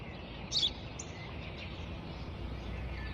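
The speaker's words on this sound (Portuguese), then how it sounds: "Aquilo é um pássaro." A bird gives a short, sharp chirp, then a fainter second call, heard at a distance over steady outdoor background noise.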